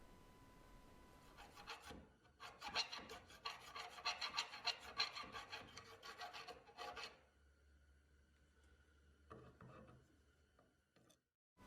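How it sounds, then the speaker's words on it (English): A hand file rasps a matching taper into a metal sword guard, giving steady back-and-forth strokes for about five seconds at close range, then quieter scraping and handling noises, with no talk. "try to symmetrically file that matching taper into the guard"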